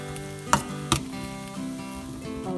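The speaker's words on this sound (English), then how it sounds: "And fry for 5 minutes. This will help to remove the bitterness from the bitter gourd." Bitter gourd frying in a pan gives a steady close sizzle, with two sharp clattering stirs early on and soft music tones running underneath.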